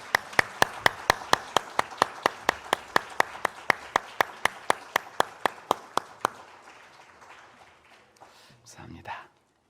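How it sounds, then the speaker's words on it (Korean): A church congregation claps in unison, about twenty sharp, evenly spaced claps in a steady rhythm that stop abruptly and give way to quiet room murmur. "하나님께 영광의 박수 올려드리겠습니다."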